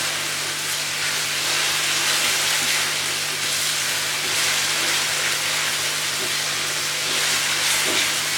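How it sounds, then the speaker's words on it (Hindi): Spices, garlic paste and crushed green chillies sautéing in a hot pan for fish curry, a loud continuous sizzling hiss that stays steady throughout with no talking. "और अब हम इनकी थोड़ी देर भुनाई कर लेंगे।"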